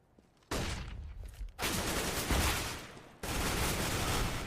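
Bursts of AK rifle fire in a Counter-Strike match, dense rattling volleys in three loud sections separated by short gaps.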